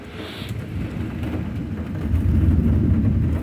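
A heavy August thunderstorm: steady rain pours down while deep thunder rumbles and swells louder toward the end, with no voices present.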